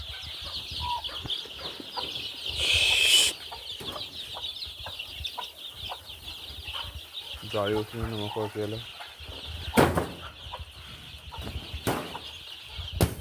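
Desi country chickens, about 115 in a coop, cluck steadily while wings flap in short bursts, one loud flurry standing out; someone speaks briefly over the flock.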